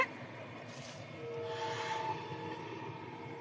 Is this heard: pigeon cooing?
no